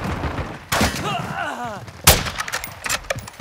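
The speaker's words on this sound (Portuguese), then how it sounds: "Jogando granada de luxo." A grenade blast in Call of Duty: Modern Warfare 2 lands as a sharp, loud boom near the middle, with a burst of gunfire before it and a whooshing, whistling sweep in between.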